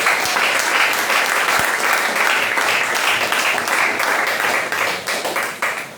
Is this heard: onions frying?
no